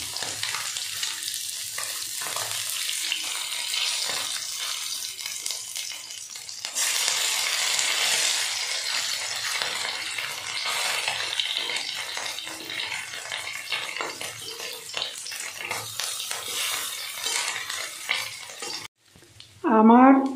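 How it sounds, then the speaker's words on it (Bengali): Small kachki fish sizzle in hot oil, a loud continuous hiss with intermittent stirring and utensil scrapes, then a brief clatter near the end. "আমার প্রথম পর্যায়ের মাছ ভাজা হয়ে গেছে।"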